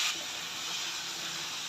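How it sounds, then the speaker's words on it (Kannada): Turmeric and red chili powder fry in hot oil for Andhra gongura dal, giving a steady, close, even hiss that runs unbroken with no voices. "ಇದು ಎಣ್ಣೆ ಬಿಡೋವರೆಗೂ ಸ್ವಲ್ಪ ಚೆನ್ನಾಗಿ ಫ್ರೈ ಮಾಡಬೇಕು"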